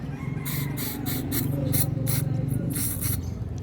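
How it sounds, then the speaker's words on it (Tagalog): Cleaner sprayed from a can into the holes of a Honda Dio scooter carburetor, heard as a series of short hissing bursts close by, separated by brief pauses. "pwede nyo na spray yan yung mga butas"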